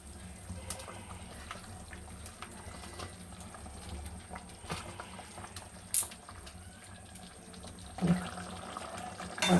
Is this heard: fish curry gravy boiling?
yes